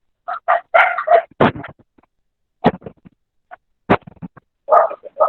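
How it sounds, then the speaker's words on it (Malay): A dog barks in the background during a teacher's retirement gathering. It gives several sharp, fairly close bursts of barks and yips, separated by short quiet gaps. "Background anjing tak syok."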